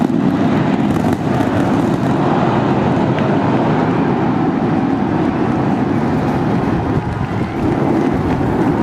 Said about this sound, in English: We got liftoff.